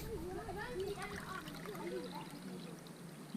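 Water poured from a cup over a stock cube at a bush campsite, a steady trickling pour lasting a few seconds, close by, with people talking over it.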